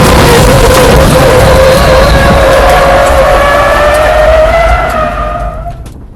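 A BMW race car's engine wails loudly with a long tire squeal as it slides sideways into turn 9 at Big Willow in the snow, the pitch rising steadily before fading away.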